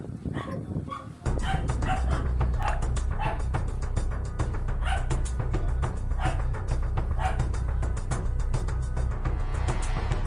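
A dog barks repeatedly and insistently through a Tagalog-language online game session, a loud, sustained run of yaps and whimpers starting after a brief quieter opening.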